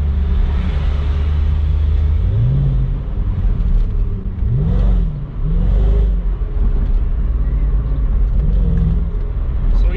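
A Mercedes-AMG SL 55 roadster, 2022 model, revs hard with loud, close engine rumble and several rising rev sweeps and throttle blips over about ten seconds, no talking.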